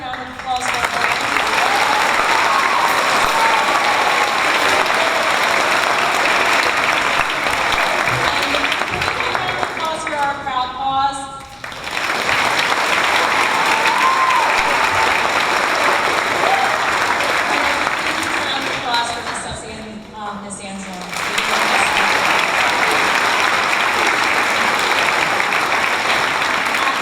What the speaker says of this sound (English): can we get a round of applause for our veterans?